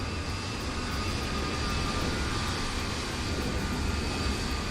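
An ATR 72 turboprop's number 1 engine spools up in a flight simulator, a loud, continuous broadband roar with a faint steady whine running through it, alone with no talk.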